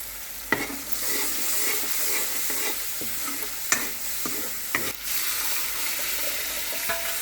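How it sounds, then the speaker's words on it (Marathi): Spice masala sizzles steadily as it fries in a hot pan while a spoon scrapes and clinks against it a few times. "याला चांगलं तळून घ्यायचं आहे ना याला आता तळून घ्यायचं"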